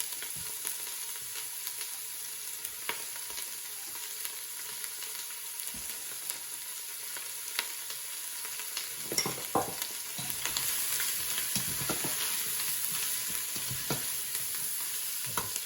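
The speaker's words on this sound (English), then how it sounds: "we'll just start sweating down the onion" Onion, carrots and garlic sweat in a pan, giving a quiet, even sizzle close by, broken by occasional stirring scrapes and utensil knocks that grow busier toward the end, with no voices.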